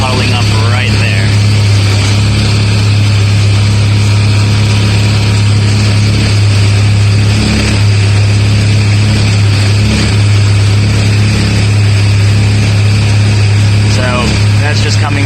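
A Joey 400 engine runs steadily at close range, a loud continuous drone with a strong low hum and rattling overtones, unbroken for the whole stretch and with no voices over it.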